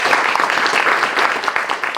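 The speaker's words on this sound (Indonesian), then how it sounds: "Bisa diberikan tepuk tangan dulu." Dense, close audience applause at a school library book discussion event, brisk continuous clapping from a room of people for a couple of seconds.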